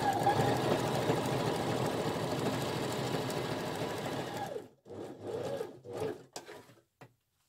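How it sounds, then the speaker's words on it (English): A sewing machine stay stitches along the edge of a single welt pocket for a coat or jacket, running steadily for over four seconds before stopping, followed by a few faint handling sounds. "Then stay stitch along the edge."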